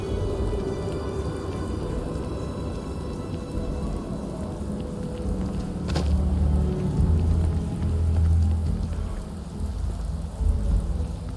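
Steady rain with low rumbling thunder in Starfield, a continuous wash of rainfall throughout and deeper thunder rolls swelling in the second half, no talk.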